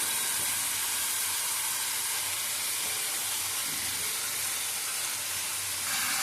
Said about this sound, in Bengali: এবার দিয়ে দেবো ম্যারিনেশন করা এঁচোড়টা। এটা আমি ততক্ষণ কষবো যতক্ষণ না আমার তেল ছাড়ে